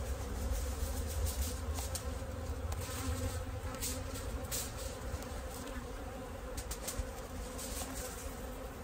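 Dense, steady buzzing of many honey bees at a hive during late-season work, a continuous close hum with no voices.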